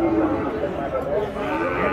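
Busy livestock market din at a cattle market in Nueva Guadalupe, San Miguel, El Salvador: cattle lowing amid a crowd of overlapping Spanish voices, loud and continuous.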